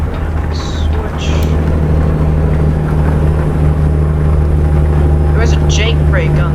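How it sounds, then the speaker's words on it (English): Semi truck engine brake on a highway, a steady, loud low-pitched engine rumble and drone heard from inside the cab, with faint brief voices in the background. "There was a Jake brake on the semi, or engine brake"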